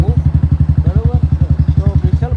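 A motorcycle engine thumps in a fast, even pulsing rhythm close by, loud and steady throughout the ride, with a few faint higher tones over it.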